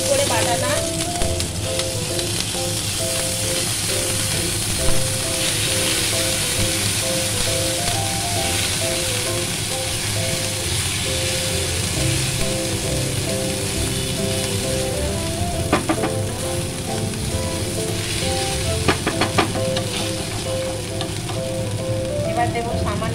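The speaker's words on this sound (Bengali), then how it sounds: "কড়াটা গরম হয়ে গেছে, আমি দেব আদা রসুন, খুব মিহি করে বাটাটা।" Finely ground ginger-garlic paste sizzles steadily in a hot wok in a home kitchen while chicken Mughlai paratha is being made, a loud continuous frying hiss with occasional sputters and stirring scrapes.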